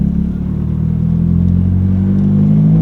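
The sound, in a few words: 1997 Honda Civic coupe performance exhaust revving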